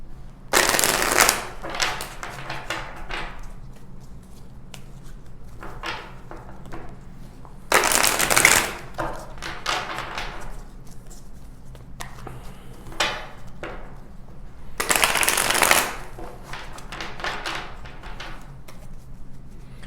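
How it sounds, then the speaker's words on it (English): A deck of tarot cards is shuffled in three loud riffling bursts spaced several seconds apart, with softer card handling and tapping between them and no talk. "So let's pull another row of cards and see what else we have for you."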